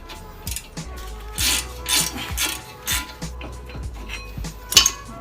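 A hand ratchet clicks in short irregular bursts, close and distinct, as it loosens the front brake caliper bracket bolt on a 2007 Kia Spectra during brake pad and rotor replacement.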